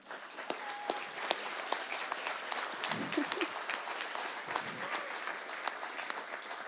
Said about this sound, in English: I'd like to begin with a heartfelt round of applause for the Gilbert Wildcats basketball team, basketball skills team, and cheer team.